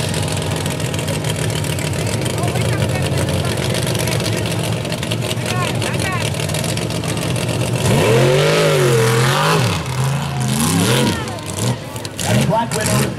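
A Black Widow mud truck's engine roars and revs loudly and continuously at a Hill and Hole mud racing event, with a crowd or announcer faintly audible through the steady drone and rising, wavering pitch sweeps near the end.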